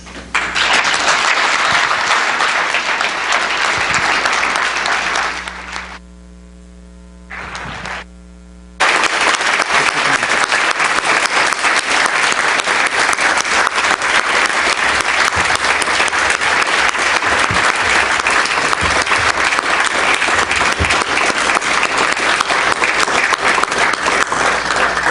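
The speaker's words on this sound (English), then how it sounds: "You can clap her back in your seat, by the way." Audience at an ALS leadership summit applauding a speaker, loud dense clapping that briefly drops out to a hum midway, then returns at full strength and carries on steadily.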